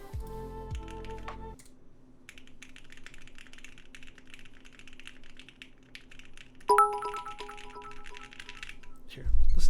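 Typing on a Cannon Keys Bakeneko60 keyboard fitted with Lavender switches, with a steady run of close, fairly soft keystrokes and a few louder clacks near the end; no voices.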